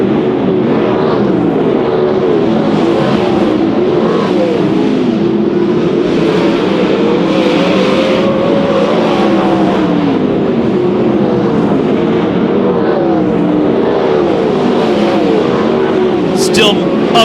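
410 sprint cars race a heat on a speedway, their engines a loud, continuous snarling roar that rises and falls as they circle, with an announcer talking over the noise throughout.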